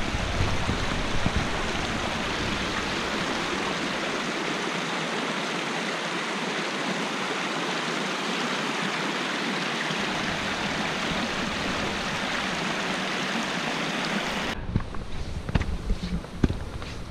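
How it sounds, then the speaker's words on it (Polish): A small stream flows along a winter mountain trail, a steady, close rushing of water that fills the whole stretch, with crunching footsteps near the end. "będziemy znowu przechodzić przez strumyczek"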